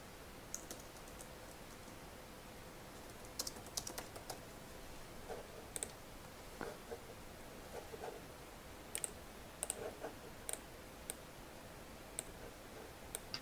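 Quiet, faint typing on a computer keyboard: scattered key clicks and occasional sharper taps at an uneven pace over a soft steady background hiss, with no talking.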